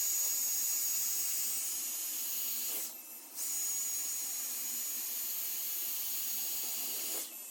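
A Dyson hair straightener blows a steady, loud rush of air that stays close and continuous, briefly dipping twice as it is moved.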